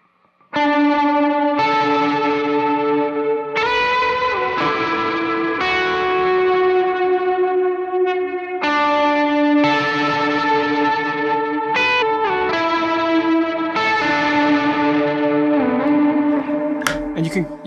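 Electric guitar played through a worship pedalboard with a reverb effect that swells and fades in and out, sustained chords ringing loud and steady across the passage with shimmering, modulated tails.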